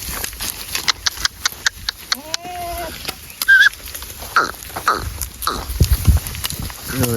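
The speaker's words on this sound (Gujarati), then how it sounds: "બધી ફાઇનલી બહાર આવી જાય છે." Cows walk out of a farm shed, their hooves clip-clopping irregularly on hard ground at close range, mixed with scattered animal calls and faint background voices.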